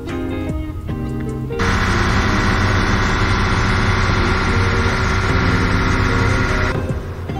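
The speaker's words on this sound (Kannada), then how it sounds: "ನೋಡಿ, ಇದೇ ಬೋಟಲ್ಲಿ ನಾವು ಹೋಗ್ತೀವಿ." A Kerala government public service boat on the Alleppey backwaters runs its engine with a loud, steady drone that starts abruptly, holds for several seconds, then drops away.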